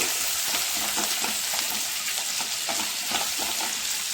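Ginger garlic paste frying in a pan for Kundapura-style chicken ghee roast, with a loud, steady, crackling sizzle that runs throughout and is broken by soft scraping stir strokes.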